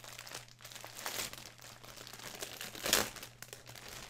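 Packaging crinkles and rustles as a mystery parcel is unwrapped, with scattered crisp crackles and a louder crunch near the end, fairly close and quiet over a low steady hum, with no talking.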